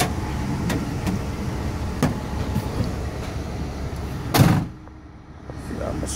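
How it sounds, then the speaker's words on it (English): Trunk door of a 2010 Mercedes Sprinter van opening with a short clunk and rattle, followed by a quieter pause, set against steady outdoor background noise. "Trunk door."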